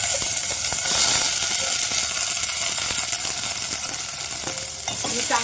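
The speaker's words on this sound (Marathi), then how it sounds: "त्यामध्ये बघा हे मोड काढलेले आपण मटकी होती ती मटकी आपण त्यामध्ये घालून घेऊया" Sprouted moth beans sizzle and crackle in hot oil with asafoetida and turmeric, a steady close frying hiss with stirring scrapes throughout, no one talking.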